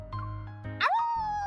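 The small pet dog Shuchi in the Love and Deepspace video game gives a brief whimpering yip with a rising tone, set against steady background game music.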